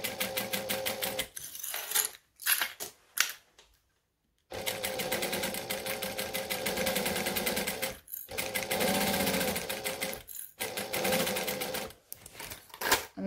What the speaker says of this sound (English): the reason I'm stitching so slowly is because I don't want my thread to snap